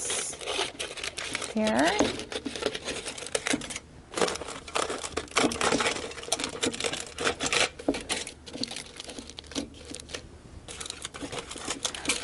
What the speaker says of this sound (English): I'm actually going to use some scissors to trim off the excess